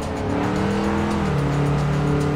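Engine note of a car driving hard through a tight corner in the racing game Forza Horizon 4, a steady, loud drone with the pitch sliding down midway as it loses grip, alone without speech.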